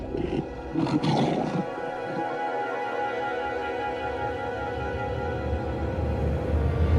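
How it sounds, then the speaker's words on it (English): Lions roar during a standoff with buffalo on the African plains. A deep, loud, close roar opens with a few grunting pulses, then fades into a low, steady rumble. "Warning sounds ring out from both sides. Roars responding."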